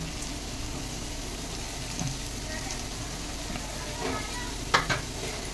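Boiled potatoes being stirred and mixed in a pan, a steady scraping, sizzling texture with a few louder clacks of the utensil near the end.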